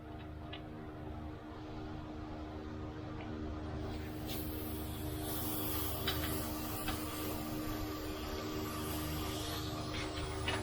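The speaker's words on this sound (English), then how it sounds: "Sorry about the fan noise" A steady whirring fan drones continuously at close range in hot weather, a constant mechanical hum with faint intermittent clicks and taps from work on a Subaru Forester XT's CV axles behind it.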